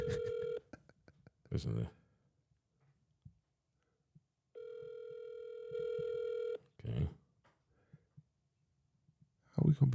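An unanswered telephone call rings out in long steady tones separated by silence, fairly loud and close, with people talking briefly between the rings.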